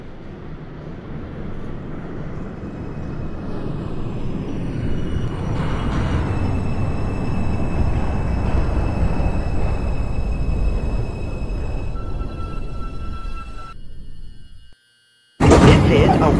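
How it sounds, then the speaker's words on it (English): A Wakefield-bound 2 subway train in the OpenBVE simulator rumbles steadily for about fifteen seconds with a faint high whine above the roar, then cuts out briefly before a loud burst at the end. "This is a Wakefield-bound 2 train."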